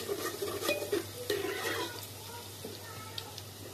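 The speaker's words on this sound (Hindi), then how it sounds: "पहले तेल में हमें अदरक लहसुन और मसाले ही भूनना है" Ginger, garlic and spices fry in mustard oil in a pan, giving a steady soft sizzle with scraping stirring strokes that are louder early on and ease off toward the end.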